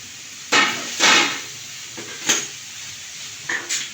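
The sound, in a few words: rice flakes added and stirred in a hot pan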